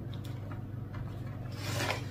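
Crinkling and rasping as a cardboard box of 36 colored pencils is opened by hand, a steady close-up rubbing that grows slightly louder and busier toward the end, with no talking.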